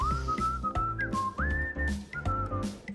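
A melodic whistled tune, with sliding pitch steps over a rhythmic backing, carries clearly for the full three seconds.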